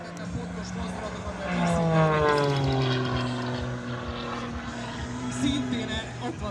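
A propeller aerobatic airplane in a display flight by Péter Besenyei spins through manoeuvres, its engine droning loudly with rising and falling pitch sweeps as it turns, continuous throughout.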